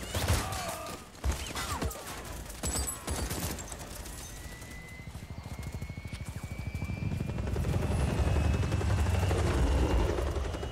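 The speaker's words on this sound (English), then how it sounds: "An over-the-top helicopter." Video game helicopter and gunfire: rapid bursts of shots and crashes at the start, then a steady, growing helicopter rotor drone that swells louder toward the end, with no talking.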